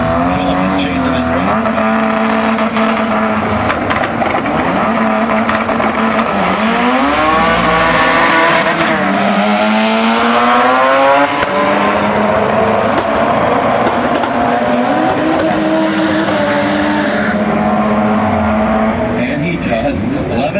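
Import cars at a street and pro drag race roar loudly as their engines climb and shift through gears, one pass overlapping the next in a constant engine din. A commentator talks over the noise.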